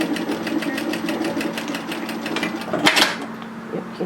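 Sewing machine stitching the shoulder seams of a slippery-fabric tiered dress, a steady rapid mechanical chatter with a motor hum, close and continuous, ending with a brief clunk.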